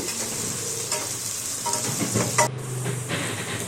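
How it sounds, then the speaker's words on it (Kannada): Chopped onions fry in hot oil in a pan, browning while being stirred, giving a steady close sizzle with occasional scraping stir sounds and no talking. "ಹೆಚ್ಚಿದಂಥ ಈರುಳ್ಳಿಯನ್ನು ಹಾಕಿ ಚೆನ್ನಾಗಿ ಬಾರಿಸಿಕೊಳ್ಳಬೇಕು ಬ್ರೌನ್ ಕಲರ್ ಬರೋವರೆಗೂ ಈರುಳ್ಳಿನ ಬೇಯಿಸಿಕೊಳ್ಳಬೇಕು"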